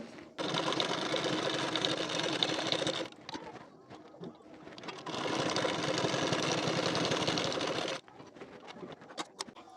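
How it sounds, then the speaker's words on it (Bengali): A sewing machine stitches a bengali-style collar neck blouse in two sustained runs, each several seconds long, loud and close, with quiet fabric handling and clicks between them. "এর উপর থেকে দুটি সেলাই দিয়ে নেবেন"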